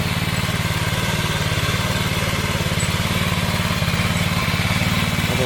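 A diesel tractor engine chugs steadily nearby during paddy sowing, with a fast, even low thumping, loud and unbroken throughout, no voices.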